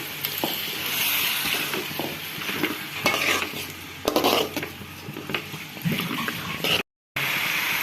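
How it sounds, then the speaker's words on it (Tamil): Chicken pieces being stirred into fried garlic in a pan, a steady sizzle with scraping and clinking of a utensil against the pan, close up, alone, with a brief gap near the end. "சிக்கன் சேர்த்து நல்லா மிக்ஸ் பண்ணி விட்டுக்கலாம்."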